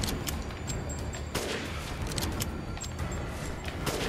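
Rapid gunfire in Resident Evil Village, dense bursts of shots and booms cracking close and loud over a roaring game backdrop, several sharp reports standing out among the continuous barrage.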